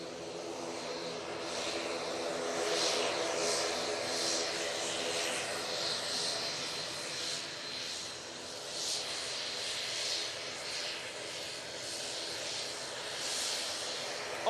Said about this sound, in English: ATR coming on.